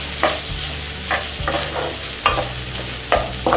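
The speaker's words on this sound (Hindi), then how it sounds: "तो मीडियम आंच पे मैं खोए को भून रही हूँ" Khoya (mawa) being roasted over medium heat for mango barfi, a spoon scraping and stirring it around the pan in distinct strokes about once a second over a low sizzle, close up with no speech.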